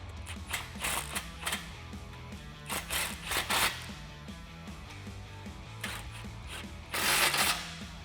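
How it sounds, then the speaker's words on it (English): Mechanical ratcheting and metallic clicking from tightening the exhaust clamps near the X-pipe on a 2018-2020 Mustang GT Borla cat-back system, coming in short bursts with pauses. "Now we can move back toward our X-pipe again and get these clamps nice and snug"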